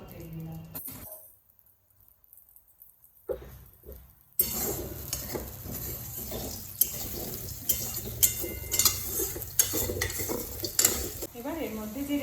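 A spoonful of oil heats in a kadai for chicken curry as a spoon stirs and scrapes the pan. After a near-silent gap, a loud sizzle starts and continues with clinking strokes, and a voice speaks at times.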